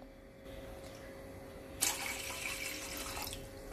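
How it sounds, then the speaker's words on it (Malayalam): Water pours steadily into a cooking pot for semolina, a soft continuous splash with a sharper onset partway through, quiet and close with no talk. "അതിൽ ഒരു 2 കപ്പ് വെള്ളം നമ്മളിവിടെ ഒഴിക്കണുണ്ട്."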